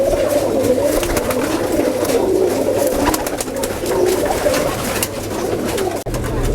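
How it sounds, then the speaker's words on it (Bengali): Two white Indian-breed pigeons coo close by, soft throaty rolling calls repeating over a low background hum, with no voices. "সুন্দর দুইটা সাদা ফ্রেশ কবুতর দেখতে পাচ্ছি এটা কি জাতের এটা আপনার ইন্ডিয়ান জাতের কবুতর"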